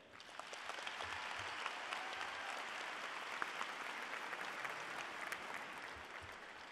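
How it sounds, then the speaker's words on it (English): Audience applause fills a graduation ceremony hall at Alief Hastings in 2019, a steady, sustained crowd clapping at moderate distance that holds evenly throughout with no voices standing out. "I kindly ask you all for a round of applause for the teachers, school staffs, parents"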